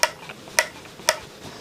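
Small mechanical clicks from the tremolo of an Eart GW1 headless electric guitar, three sharp ticks about half a second apart plus fainter ones, close and quiet with no talk.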